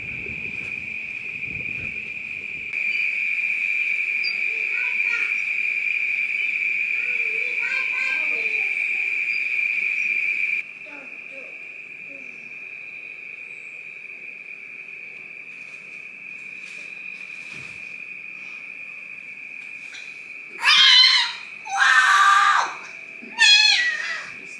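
Crickets chirp in a rainforest at a valley retreat, a steady high drone running throughout, louder for the first half, with birdsong and short bursts of other calls near the end.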